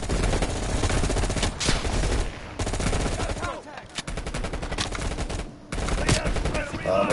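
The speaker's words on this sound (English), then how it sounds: "Can't tell where all the fire's coming from." Heavy gunfire fills a Call of Duty Cold War campaign battle: loud, sustained automatic bursts and rapid shots rattle almost continuously, broken only by a few brief lulls.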